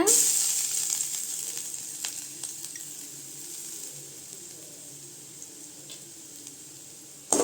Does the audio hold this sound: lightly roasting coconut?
yes